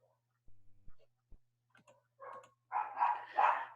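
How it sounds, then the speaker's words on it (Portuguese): Dogs barking somewhere nearby in short separate yaps at first, then a louder, denser burst of barking toward the end, while someone changes a gas cylinder. "os cachorros estão latindo porque estou mudando o gás aqui"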